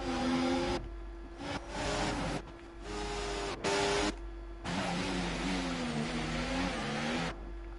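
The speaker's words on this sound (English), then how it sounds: "Yeah, the engines sound different." Racing car engines in the F1 24 video game at the Canadian track, a sustained loud high-pitched whine broken by short gaps and shifting pitch as the cars run together, with no talk.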